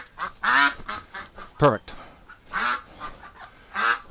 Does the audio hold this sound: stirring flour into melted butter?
no